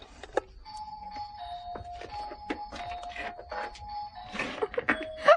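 A doorbell on a street of old houses chimes several sustained tones, fairly quiet, with people talking softly around the ringing.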